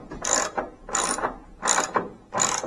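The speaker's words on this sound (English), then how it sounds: "tightening down the top perch bolts" A hand ratchet tightens the top perch bolts on a spring compressor, four loud bursts of rapid clicking at a steady rhythm with brief pauses between, close up and alone.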